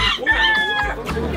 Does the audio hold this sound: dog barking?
no